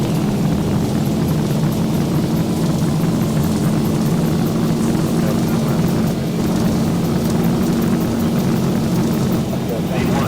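Jet airliner engines in X-Plane 12 with the Zibo mod spool up toward takeoff thrust: a loud, steady roar with a droning hum that holds constant throughout.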